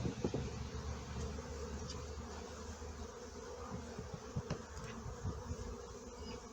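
Honeybees buzz steadily at a beehive during honey production, a dense, continuous hum from many insects close by, with no voices over it.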